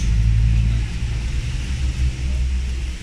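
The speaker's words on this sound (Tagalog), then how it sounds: "Ayan, tinatapakan ko na yung silinyador." A car engine revs as the accelerator pedal is pressed during troubleshooting of a car that cranks but won't start: a loud, close, low rumble that swells at first, then eases into a steady drone.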